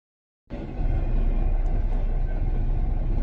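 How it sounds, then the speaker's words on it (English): A train's loud, steady, broadband rumble that starts abruptly and then holds constant, with no talk over it. "we're waiting for the train"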